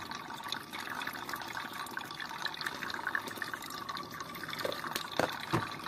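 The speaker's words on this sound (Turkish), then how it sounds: "Buradan daha koyu, daha pis suyumuz geliyor." Dark, dirty water drains from a home heating radiator during a flush, a steady trickling and splashing pour with a few sharper drips and gurgles near the end, fairly faint.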